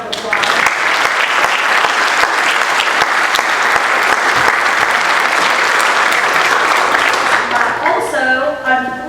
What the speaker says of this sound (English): let's give Mr. Messick a round of applause